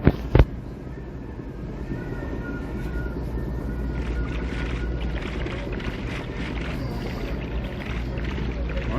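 A boat sails across water in Minecraft with a steady rushing, sloshing wash that continues throughout, preceded by a brief sharp knock at the start.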